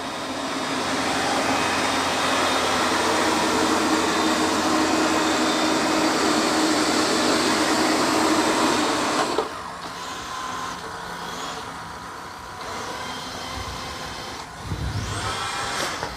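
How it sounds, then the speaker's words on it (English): A robot vacuum and mop hums loudly while working over muddy paw prints, then its suction cuts out and leaves a quieter mopping whir with a few small bumps; no talking. "It sensed those muddy paw prints, it turns the vacuum off, and now it's only mopping"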